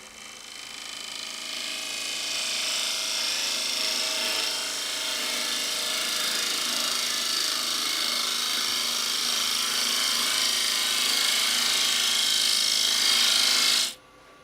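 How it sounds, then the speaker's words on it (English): Bowl gouge with a 40-degree grind cutting a cypress hollow form on a lathe, a loud steady rasping hiss of wood being shaved that runs for about fourteen seconds before stopping abruptly. "Could do the 40-degree bowl gouge. See if what it will cooperate and make that cut clean."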